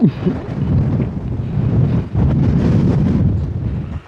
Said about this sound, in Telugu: గాలి దారుణంగా వస్తుంది.